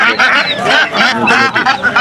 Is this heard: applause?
no